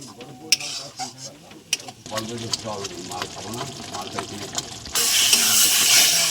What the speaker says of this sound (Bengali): তো মশলাটা আর একটু ভালো করে কষিয়ে নেব।